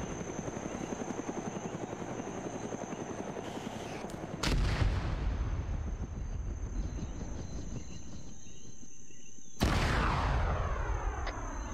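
Two loud gunshots ring out several seconds apart over the steady drone and whir of a Huey helicopter rotor in a video game, with no talking.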